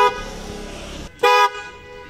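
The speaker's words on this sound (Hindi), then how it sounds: "तो हॉर्न्स बजा के चेक करते हैं।" A Hella twin-tone car horn blares twice, a long honk then a short gap and another sharp blast, loud and close over a running engine.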